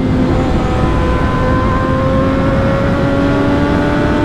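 A 2016 Triumph Daytona 675 R motorcycle engine drones steadily while riding, a loud, continuous mid-pitched tone with wind rush, its pitch drifting only slightly.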